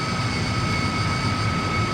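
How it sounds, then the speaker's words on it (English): De Havilland Goblin 3 centrifugal turbojet of a DH.100 Vampire in Flight Simulator X, a loud steady jet roar with a constant high whine throughout. "let's run up our de Havilland Goblin 3 centrifugal turbojet"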